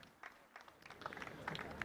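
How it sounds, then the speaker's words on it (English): A sparse smattering of applause rises from the sideline at a schools rugby sevens tournament as an injured player is carried off the pitch, faint and distant, with scattered claps growing slightly denser toward the end. "the Hill House man gets a smattering of applause on the sideline"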